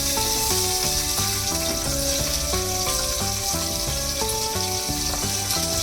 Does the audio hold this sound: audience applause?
no